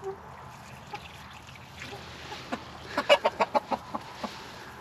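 Chickens in a backyard coop after a hard freeze cluck close by, a few scattered calls building into a quick, loud run of rhythmic clucks, with faint human voice in the background.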